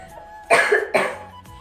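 A woman with a cold gives two harsh, close coughs in quick succession, loud and alone, followed by a faint throat sound.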